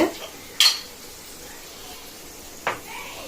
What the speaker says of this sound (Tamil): இப்படியே மிளகு கொஞ்சம் இடிச்சுக்கலாம்